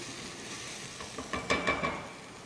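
Aromatics and red pepper flakes are stirred in a hot pot for a chickpea soup, giving a soft, steady sizzle with a few brief scraping stirs near the end, close and fairly quiet.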